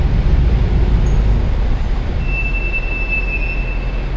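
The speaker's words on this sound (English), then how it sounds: "This is how you fix brake squeal." Car brakes squeal with a clear, sustained high-pitched tone for a second or two, standing out over a heavy low road rumble as the car creeps slowly toward a stop.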